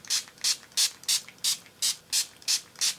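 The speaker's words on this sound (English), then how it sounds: "So quick spray." A dermal mist sprayed onto skin: eight quick, evenly spaced hissing pump bursts, close and crisp, with nothing else heard.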